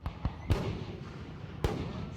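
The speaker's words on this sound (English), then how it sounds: "consecutive nights of fireworks displays this summer." Several sharp fireworks bangs go off outside at Niagara Falls at irregular intervals, like gunshots, with a couple of softer pops between them over a low background rumble.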